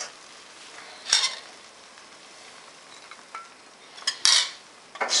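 A spoon stirs thickening cheese sauce in a pan for cauliflower cheese. Quiet scraping runs under a low background hiss, broken by a few sharp clinks of utensil against pan near the middle and end.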